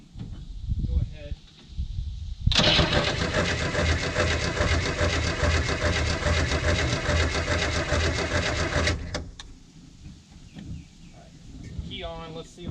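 A 1967 Chevrolet Nova engine, sitting for 30 years as a field find, cranks over with a fast, even starter rhythm for several seconds, loud and close, stopping abruptly without catching; brief talk before and after.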